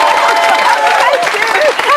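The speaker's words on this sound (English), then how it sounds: "Round of applause," A studio audience on a British Big Brother spin-off show breaks into steady applause with some cheering, a dense, continuous wash of clapping with voices mixed in throughout.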